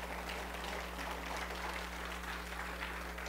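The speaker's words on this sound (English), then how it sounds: "go ahead and give God a hand clap of praise" Church congregation clapping during a Sunday morning service. The sound is a steady, moderately faint wash of many hands lasting a few seconds over a constant low electrical hum, with no talking.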